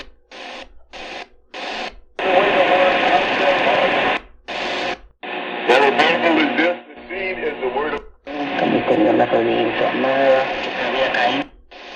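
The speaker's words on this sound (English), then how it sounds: "So what we're hearing down here was medium wave breakthrough." Medium wave breakthrough on an XHDATA D-109 shortwave radio during daytime listening: loud, hissy broadcast audio with a distorted voice and music, cutting in and out in several bursts.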